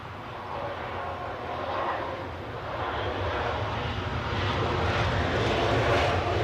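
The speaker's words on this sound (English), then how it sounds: "Next arrival, British Airways in from Nice, in a 321 Neo." A British Airways Airbus A321neo arriving at London Heathrow roars with a broad, steady jet engine rumble that swells gradually louder as it approaches, with no talking over it.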